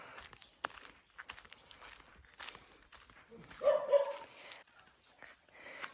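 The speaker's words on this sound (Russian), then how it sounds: "А слушайте, как собаки лают." Dogs bark in a rural village, a short burst of several barks in the middle of the stretch, moderately distant, amid footsteps and quiet outdoor ambience.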